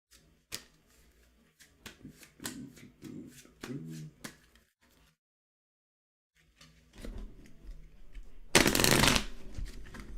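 A deck of playing cards is shuffled by hand in a series of quick riffles and snaps, then a silent gap, then handling noise and a loud burst of a final riffle close by.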